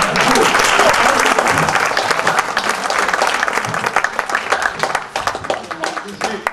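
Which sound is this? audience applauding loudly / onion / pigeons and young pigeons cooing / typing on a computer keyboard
audience applauding loudly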